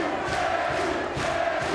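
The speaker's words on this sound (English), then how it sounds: "And listen to the crowd, Glenn." Boxing crowd at a British 140lb title fight roaring in a continuous, dense wash of voices with swelling surges, heard alone without commentary for a short stretch.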